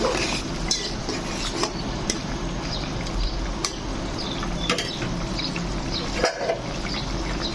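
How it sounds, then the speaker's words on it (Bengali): Goat liver being stirred in a pan with three whole green chillies, busy clinking and scraping of a utensil against the pan over a low sizzling bed, close-up and continuous, with no talking. "এখন তিনটা আস্ত কাঁচামরিচ দিয়ে দেব আর একটু নেড়ে দেব"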